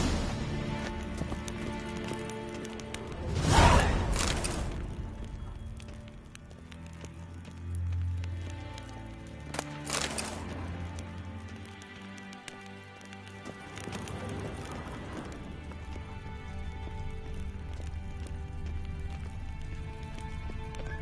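Several horses gallop nearby, their hooves clip-clopping in a loose, uneven rhythm, with a sharp burst of louder hoofbeats early on and a faint whinny among the running sounds.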